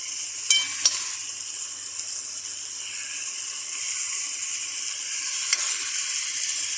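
Fish frying in a pan, giving a loud, continuous sizzle with a few sharp pops near the start, close up and with no one talking.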